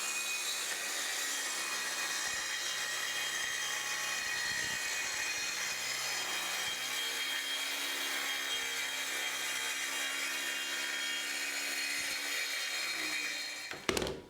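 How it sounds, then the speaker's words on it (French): A circular saw cuts steadily through wood for about fourteen seconds, a continuous whining grind with no talking, ending in a brief louder burst. "que ce soit une scie circulaire à capot basculant ou une scie circulaire plongeante"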